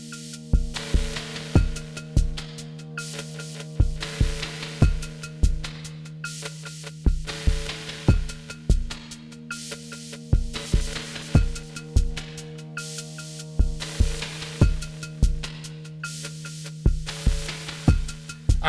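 A Chaos random rhythm generator module fires synthesized hi-hat-like noise hits in an irregular, busy pattern, crisp sharp ticks over a steady tonal drone, with no talk.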